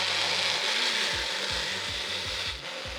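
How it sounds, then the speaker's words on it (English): Blender running on a batch of coleslaw dressing, a steady close whirring roar with rhythmic low pulsing as the blades churn the mixture, loud and alone throughout. "And now I'm gonna blend it all together till it's smooth"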